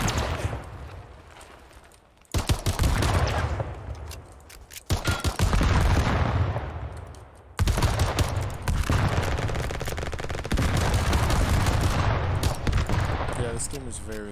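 Dense, loud gunfire from the trench-warfare video game Trenches, with rapid bursts and sustained fusillades of rifle and machine-gun shots plus heavy booms, continuing almost without pause.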